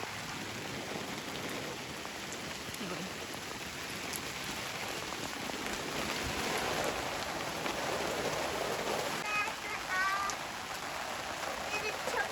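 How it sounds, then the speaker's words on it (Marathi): Steady rain mixed with small hail patters on surfaces in a garden in Germany, with a few faint bird chirps late on, and voices talk quietly beneath the downpour. "आणि पावसाबरोबर बघा थोड्या थोड्या गारा पण पडत आहे."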